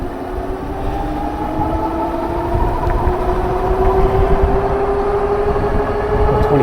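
A Heybike Ranger S folding electric bike runs on throttle alone, its hub motor whine rising steadily in pitch under continuous road and wind rumble as it accelerates, with no talking.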